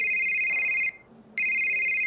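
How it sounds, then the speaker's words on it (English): A mobile phone rings in two steady electronic tone bursts separated by a short gap, loud and close, with no talk over it. "All right, Wendy, you can see my phone is ringing here"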